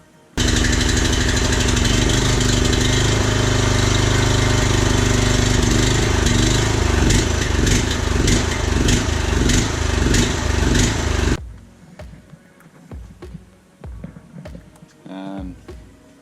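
Loud, close Honda snow blower engine running on choke and hunting, its revs surging and dipping unevenly for about eleven seconds before it cuts out, leaving quieter handling noises and a voice afterward.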